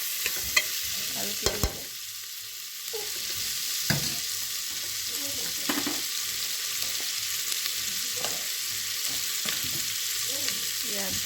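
Rice for pulao fries in a pan, stirred until it browns, with a continuous close sizzle and scraping spoon strokes; a voice briefly speaks near the end.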